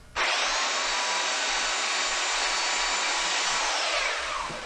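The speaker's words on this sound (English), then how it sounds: "now we're going to use the edge of the sander here to kind of draw a line down the rock like" The edge of a power sander grinds a line down a prop rock for a haunted mansion set, a steady loud whirring buzz that runs continuously and close up.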